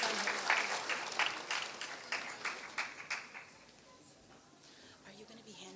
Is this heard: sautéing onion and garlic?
no